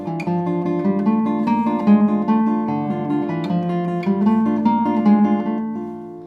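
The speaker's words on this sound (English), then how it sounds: "This is from Saw's Grand Solo." A section of Sor's Grand Solo is played on classical guitar, with a flowing run of plucked notes over sustained bass tones, clear and close, heard without any talk.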